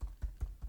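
Four soft, evenly spaced keystrokes tap on a computer keyboard while a name is typed, close and quiet, with no voices.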